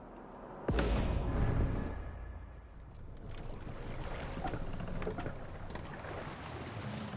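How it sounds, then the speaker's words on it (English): Oars rowing a Viking longship in Assassin's Creed Valhalla, with a heavy splash near the start followed by a steady wash of water, wind and waves rolling around the boat. "Need to row our way out. Can't raise the sail here."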